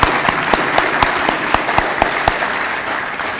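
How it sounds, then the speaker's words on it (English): A banquet audience applauds, with dense, continuous clapping and several louder individual claps standing out near the front, steady from start to finish. "let's give them another round of applause"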